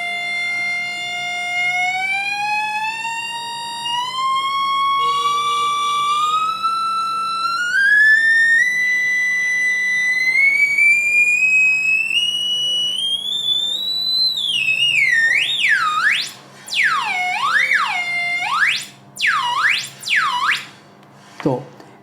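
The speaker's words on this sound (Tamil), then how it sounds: "ஒரு பீப்பிங் சவுண்டாகவும் யூஸ் பண்ணிக்கலாம்." An NE555 audio frequency generator circuit emits a loud electronic tone that climbs steadily in pitch, then breaks into rapid warbling, siren-like sweeps with short gaps, with no talking over it.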